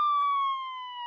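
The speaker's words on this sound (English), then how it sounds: "Suddenly, outside, they hear the sound of a siren." A police car siren, heard as one steady electronic tone sliding slowly downward in pitch, loud and clear with nothing else behind it.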